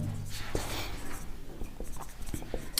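Pen or marker writing out a math problem, scratchy strokes and taps in an uneven rhythm over steady background hiss.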